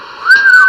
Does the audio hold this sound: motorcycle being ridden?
no